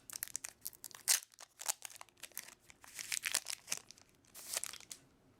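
Crinkly plastic foil of a Magic The Gathering M13 booster pack is torn and crumpled open close by, in quick bursts of rustling and tearing with short pauses, no talk.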